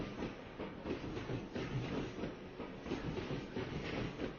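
A train running on rails, heard from inside a passenger compartment: a steady, loud rumble with a faint rhythmic clatter of wheels throughout, and no voices.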